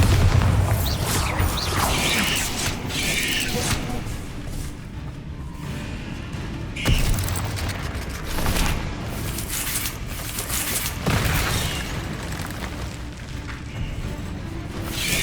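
Bombarda spells explode repeatedly in the Hogwarts Legacy video game, making heavy booms and crashing blasts that roll one into another over continuous, loud combat noise, with no speech.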